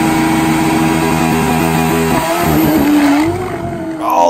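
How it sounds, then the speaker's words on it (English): Kawasaki KZ drag motorcycle with a J model head, 1260cc engine and turbo, launching hard: loud, close engine roar with stepped rising revs, then a sudden change and a squealing pitch as the tires grip. "Listen to that tire grip."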